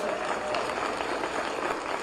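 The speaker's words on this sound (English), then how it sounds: "Y'all give my staff, my amazing team, a round of" An audience at a 2022 Senate race concession speech applauds steadily, a dense, even wash of clapping that holds at moderate loudness for the whole stretch with no talk over it.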